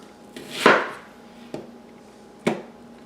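Onions are chopped finely with a knife on a board for a pâté chinois, giving a few sharp, isolated knocks spaced irregularly over a quiet background, close by and without talking.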